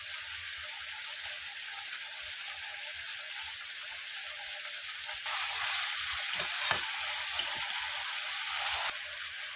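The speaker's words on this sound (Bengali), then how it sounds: "চিকেনটা ভাজা হয়ে গেছে এবার দিয়ে দেব মশলা দিয়ে দেব আদা রসুন বাটা" Chicken pieces fry in oil as ginger garlic paste goes in, a soft, continuous hiss that grows louder midway, with a few brief crackles and taps.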